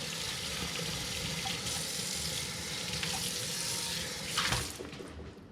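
A pan gets rinsed and scrubbed under a running kitchen tap. Water splashes steadily throughout, with scrubbing scrapes and a louder splash near the end before the flow eases off.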